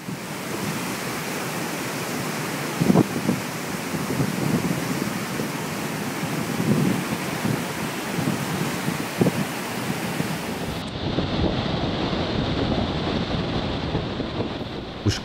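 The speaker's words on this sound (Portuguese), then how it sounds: "O mar em fúria volta a assustar em 29 de maio de 2014." A raging stormy sea batters Belmonte Island off Brazil, a steady roar of crashing surf with strong wind buffeting the microphone, occasional louder wave impacts, continuous and loud with no voices.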